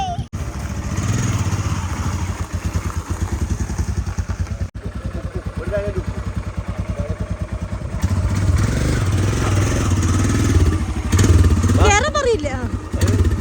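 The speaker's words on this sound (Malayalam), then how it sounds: "അപ്പം നമ്മൾ ആ ബൈക്ക് എടുത്ത് പോകാമെന്ന് വിചാരിച്ചു" A motorcycle ride near Kozhikode: a steady, close engine drone runs throughout and grows louder and rougher partway through, with voices faintly over it.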